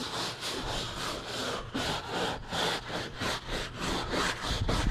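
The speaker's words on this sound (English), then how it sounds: "So I'm gonna keep scrubbing" A big stiff brush scrubs a golf cart floor mat being cleaned with Super Clean, making steady back-and-forth rasping strokes, close and fairly loud, with no talking.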